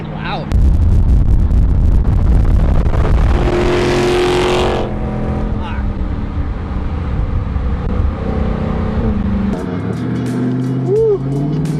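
A loud Mopar car drives through traffic, its engine roaring and revving in close bursts, with people talking and whooping over the noise.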